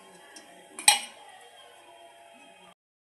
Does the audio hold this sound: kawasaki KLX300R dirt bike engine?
no